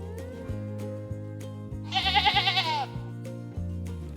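A toy sheep from a farm barn playset lets out one short, wavering bleat in the middle, carried over a steady, cheerful music loop.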